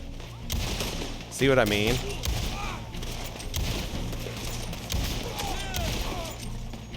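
Gunfire in the Red Dead Redemption video game as bullets hit the player: repeated sharp shots and bursts over several seconds, with someone talking over them.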